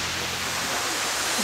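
Steady, broadband rushing wash of a waterfall in a park, constant and fairly loud throughout with no distinct breaks or voices.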